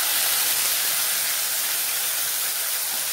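Onion paste with bay leaves sizzling in hot oil for Dindigul chicken dum biryani, a steady, even hiss that holds at the same level throughout with no voices over it.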